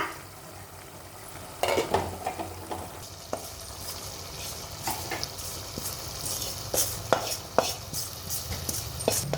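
Squid fries for a Mangalore-style sukka in a pan, with a steady sizzle punctuated by repeated close spatula scrapes and knocks as it is stirred.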